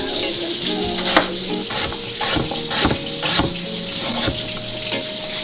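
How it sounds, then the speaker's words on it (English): Diced meat sizzles and renders fat in a hot pan at home, a steady loud crackling fry with stirring clinks and scrapes throughout, no voices. "And you can see it's already rendering off some fat."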